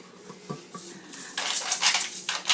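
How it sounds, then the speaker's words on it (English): A spoon stirs a mixture in a bowl with soft scraping at first, then louder clinks and clatters against the bowl's sides toward the end. "I'm going to give that a stir."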